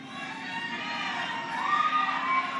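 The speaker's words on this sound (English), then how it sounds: "It's an amazing crowd." A large crowd at a pro-life rally cheers and shouts in a continuous, fairly distant roar, with one voice rising in a brief high call near the end.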